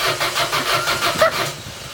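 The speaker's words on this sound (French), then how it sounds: "il va mettre le contact comme ça" An old car's engine starting, a rhythmic cranking churn of the starter repeating evenly before a brief higher whine near the end, loud and close with no talk.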